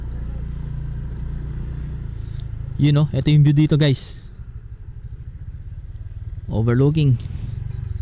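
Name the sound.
motorcycle engine climbing uphill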